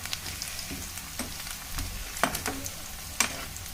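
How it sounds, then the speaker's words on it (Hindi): Onions and green chillies fry in hot oil with a steady, moderate sizzle, broken by a few sharp clicks of a utensil stirring against the pan. "ये तेल गरम हो गया, प्याज और हरी मिर्च मैंने डाल दिए है।"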